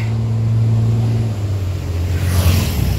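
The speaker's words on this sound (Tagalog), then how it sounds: "Gusto niya maka-overtake kahit alam niyang paahon. Hirap na nga yung makina niya." A vehicle engine strains loudly while overtaking on an uphill road, a steady low drone that shifts pitch partway through as it labours, with road and wind noise rising toward the end.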